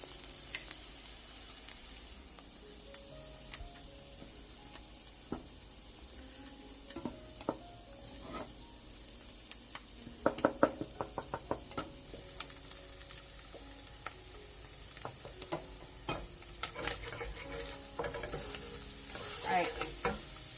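Onions and bacon frying in a pan give a soft, steady sizzle with scattered spatula scrapes and taps, busier in the middle; a brief spoken word appears near the start.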